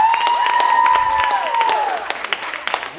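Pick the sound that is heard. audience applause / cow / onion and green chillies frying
audience applause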